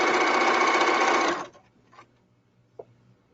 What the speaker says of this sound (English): If you've got a cover stitch machine, you can cover stitch this.